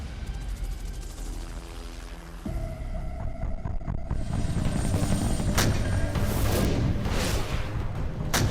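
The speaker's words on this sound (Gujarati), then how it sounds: "જંગની સ્થિતિમાં જાબાઝીનું બીજું નામ એટલે હિન્દના આ હેલિકોપ્ટર." Indian military helicopters roar as a dense, steady broadband rumble that swells and stays loud throughout, with sharp bursts layered on top and no talking.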